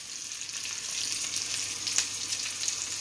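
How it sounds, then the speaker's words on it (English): Applewood bacon with applewood seasoning sizzling in a skillet on low heat, a dense steady hiss with faint crackles and small pops, close and continuous with no talking. "The sounds of the skillet cooking applewood bacon on simmer and applewood seasoning sprinkle on the bacon."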